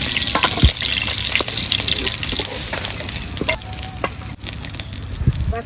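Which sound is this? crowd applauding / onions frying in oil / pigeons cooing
onions frying in oil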